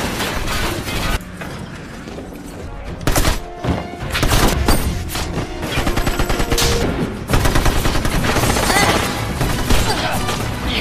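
Heavy gunfire in an action-comedy film as armed attackers fire on two people on a building's second floor. Loud bursts of rapid automatic fire and single shots mix with booming thuds in dense, uneven clusters.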